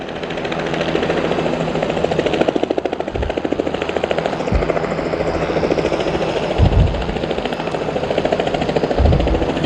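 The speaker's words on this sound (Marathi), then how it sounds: "या ठिकाणी हेलिकॉप्टर लँड झालेलं आहे" A landing helicopter's steady, heavy rotor thrum fills the air, loud and close, with a few dull thumps breaking through the constant roar.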